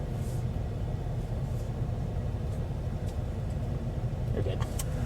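A car drives on the ride home, its steady low road rumble and engine drone continuous throughout, with faint voices in the cabin.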